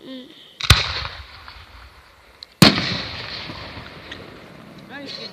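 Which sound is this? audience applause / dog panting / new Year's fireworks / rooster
new Year's fireworks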